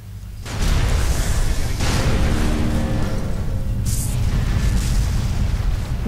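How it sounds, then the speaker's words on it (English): Alien ship in Fallout 3 blows up in a long, loud, rumbling explosion that roars continuously after a brief quieter start, with a burst of sharp hiss partway through. "I sit in captain's chair and admire the explosion."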